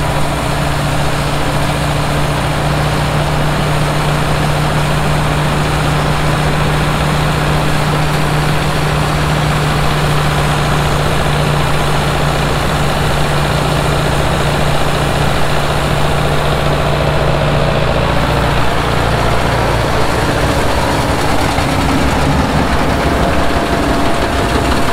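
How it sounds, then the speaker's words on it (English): Vintage combines and tractors drone continuously nearby at a steam threshing festival in Moynalty, Ireland, a steady low mechanical rumble of old machinery running without pause. "looking at all these old combines and old tractors in action from days gone by"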